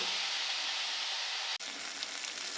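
Turmeric, salt and spices sizzle in hot oil in a pan while a Bengali mourola fish chochori with potato and onion is cooked, a steady close hiss throughout with a brief dropout near the middle.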